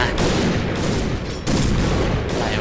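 Rapid gunfire in the shooter game Point Blank, a dense, continuous burst of shots close and loud with a brief dip in the middle before the firing resumes.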